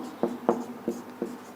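Pen strokes scratch across a page while working through a Class 10 maths problem on the converse of Thales' theorem, four short distinct bursts spaced irregularly, close and fairly quiet with no talking.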